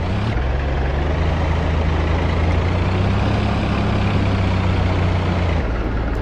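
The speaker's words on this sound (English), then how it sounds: "So we can happily drive the vehicle, physically drive the vehicle" The engine of an SA-8 Osa surface-to-air missile vehicle drives in the DCS World combat simulator: a loud, steady low diesel rumble and drone that holds constant throughout, with no talking.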